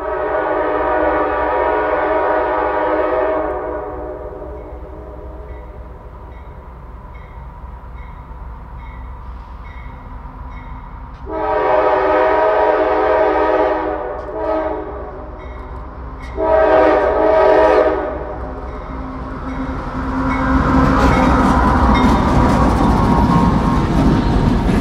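CSX coal train at a road crossing near Murdoch, a loud sustained multi-tone horn blown in several long blasts with gaps, then rising rumble and clatter of heavy cars rolling close by.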